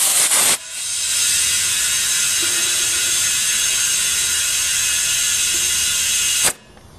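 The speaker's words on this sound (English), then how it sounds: "Just refill the tire." Compressed air rushing into a plugged, leaking car tire: a loud, steady hiss that starts abruptly just after the beginning, holds for about six seconds, then cuts off sharply.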